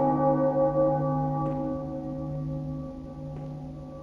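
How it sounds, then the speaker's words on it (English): Bells of awakening from the video game Bloodborne ring out as sustained, layered tolling tones. They hold steady and resonant through the whole stretch and fade slightly toward the end, with no talking. "Someone's ringing the bells of awakening."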